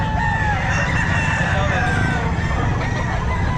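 A bull stag, a young gamefowl rooster at a pet market, crows loudly and close, with repeated crowing calls over a busy background of other birds and market noise.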